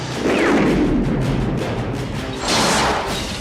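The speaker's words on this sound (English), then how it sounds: "we witness the usual Hollywood massively overpowered portrayal of hand grenades" An exaggerated hand grenade explosion from an action movie roars loud and continuous, with a rumbling, debris-filled blast that swells again toward the end.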